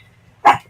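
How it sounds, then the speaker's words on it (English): A dog lets out one short, sharp bark at close range, loud and abrupt against a quiet room with a faint low hum. "No one wants to hear you bark on YouTube Live."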